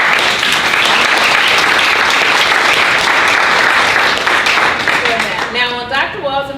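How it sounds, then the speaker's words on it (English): A loud round of applause from an event audience, dense clapping filling the room and then fading as a voice begins speaking near the end. "I think we should give them a round of applause."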